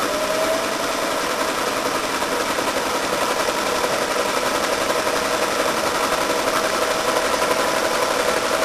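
A sewing machine stitches a quilt top in a continuous, rapid mechanical whir with a fast, even needle rhythm, close and steady for the whole stretch with no voices.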